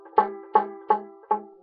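Four evenly spaced plucked banjo notes, each a bit dull and buzzy rather than ringing clean because a fretting finger has collapsed, decaying quickly between plucks.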